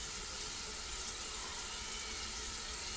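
Tap water runs steadily from a bathroom faucet over a makeup brush, a constant soft hiss and splash at low level with no talking.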